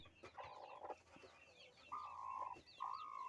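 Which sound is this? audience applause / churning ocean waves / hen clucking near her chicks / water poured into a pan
hen clucking near her chicks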